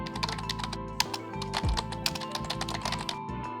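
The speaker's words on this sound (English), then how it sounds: "I just typed add sunglasses." Steady typing on a computer keyboard, a rapid run of close, crisp key taps with an uneven rhythm over faint background music, no talk.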